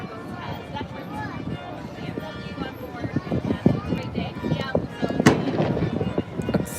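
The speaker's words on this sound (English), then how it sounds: "Sounds like another one has cannons." Distant booming cannon blasts from boats pop out irregularly over a busy outdoor July 4 background with people talking, one sharper report standing out near the end.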